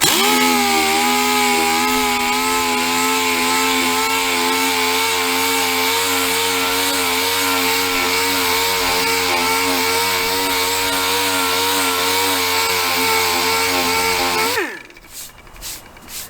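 A power sander with 320 grit paper works steadily on a faded plastic gas tank from a 1985 Honda ATC250R, a loud continuous whining drone that holds an even pitch before winding down abruptly near the end.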